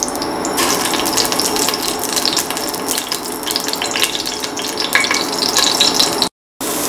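Onions, shallots and garlic with salt fry in hot oil in a pan, giving a continuous loud sizzle with scraping stir noises. The sizzle cuts out briefly near the end.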